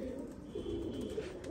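Saleti Kamanghar pigeons cooing in Punjab, a faint low continuous cooing throughout the brief moment.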